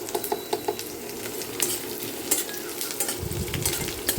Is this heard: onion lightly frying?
yes